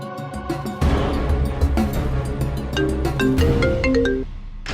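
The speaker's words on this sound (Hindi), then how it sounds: "साक्षी को फोन लगाते हैं।" A melodic electronic phone-call ringing tone plays continuously, with stepped tonal notes over a steady backing, no voices.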